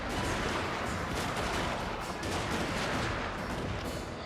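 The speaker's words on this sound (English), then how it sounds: "these shots are also hitting my own guys" Dense artillery and rifle gunfire rattle on without a break in a Total War: Shogun 2 Fall of the Samurai multiplayer battle, a thick wall of overlapping shots and booms at an even moderate level.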